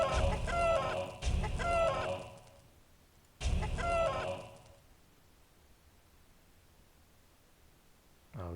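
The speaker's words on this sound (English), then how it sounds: "The chickens are attacking me." Chickens in the Arcanum video game cluck in two loud, close bursts, the first lasting about three seconds and the second shorter, followed by near silence.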